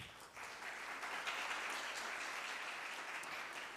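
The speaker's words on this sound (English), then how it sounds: "But a round of applause to the panel." Faint, distant applause from the audience at a World Bank Pakistan economic memorandum panel discussion, a soft, continuous wash of clapping holding steady for a few seconds.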